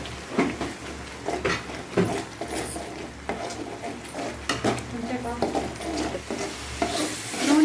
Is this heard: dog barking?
no